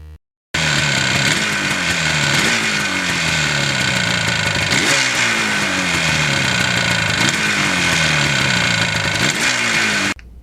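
Two-stroke motorcycles, a Honda NS250R and a Yamaha RD400, rev repeatedly in a parking lot, each rising buzzy wail dropping back before the next, loud and close.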